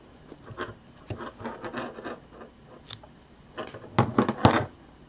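Scissors snip the yarn end of a crocheted Mother's Day washrag, a few quick, close cuts amid soft handling rustles, with the sharpest snips near the end and no talk.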